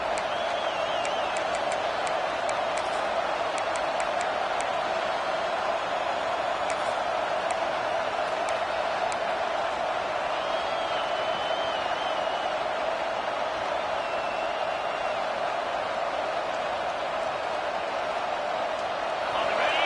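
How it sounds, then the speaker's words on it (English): A big football stadium crowd roars in a dense, continuous wash of cheering near the goal line, loud and unbroken throughout, with no clear individual voices standing out. "this big crowd doing everything possible to inspire this defense down here near the goal line"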